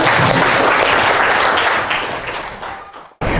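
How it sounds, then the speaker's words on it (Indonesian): A classroom of students claps together in a dense, loud burst of applause that fades and cuts off after about three seconds. "kasih aplaus untuk Melda semua"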